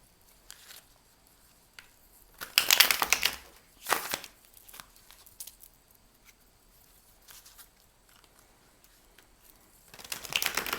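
Tarot cards being shuffled by hand, close riffling bursts of papery flutter separated by quieter gaps and light card handling, no talking.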